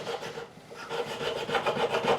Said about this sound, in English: it's scraping but it's not doing that brilliantly